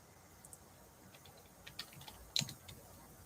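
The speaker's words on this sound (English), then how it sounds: "I'll type that" Typing on a computer keyboard, a few scattered light keystrokes and clicks with a brief cluster, close and quiet against low room hiss.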